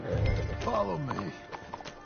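Horse hooves clip-clop in Red Dead Redemption 2 under a voice, a light rhythmic clatter continuing as the speech fades near the end.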